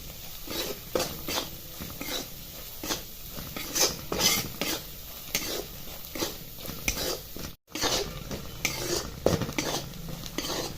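Ground spices (turmeric, coriander, chilli masala and garam masala) being stirred and sautéed in a pan for green pea curry, with repeated scraping and clinking of a utensil over a soft sizzle, close and steady.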